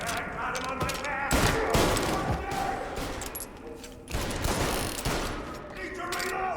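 Rapid bursts of gunfire in the Mafia Definitive Edition video game, dense and continuous fusillade with heavy thumps throughout, loud and close, mixed with game sound effects.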